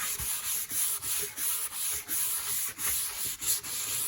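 Steady back-and-forth rubbing of 100-grit sandpaper across a scrap-parts guitar body, strokes repeating in an even rhythm of roughly two per second, close and continuous with no talking.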